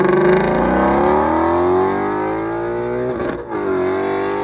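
A 2017 Ford Mustang GT350 with its naturally aspirated 5.2-liter Voodoo V8 revs hard toward 8,200 RPM, loud and near, its pitch climbing, then briefly dipping before surging again.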